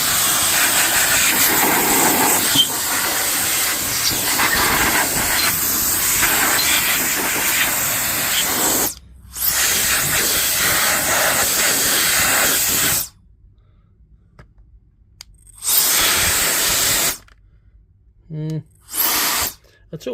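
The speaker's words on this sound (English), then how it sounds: "we'll start off by dedusting the actual compressor with the wee fan" A small handheld fan fitted with a nozzle blows dust off a compressor with a loud hissing rush of air. It comes in long bursts broken by short silences and ends with a few brief blasts.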